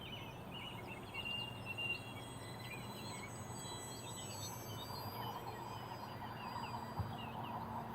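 Faint outdoor birdsong, with scattered chirps and tweets plus a thin insect-like trill over a soft, steady background hum at an RC flying field.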